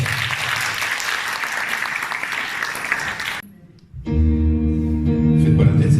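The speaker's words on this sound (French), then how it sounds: "on peut les applaudir très fort" An audience at the Miss Villeneuve d'Ascq 2022 pageant claps loudly and steadily for about three seconds, then the applause cuts off and music with sustained tones starts up.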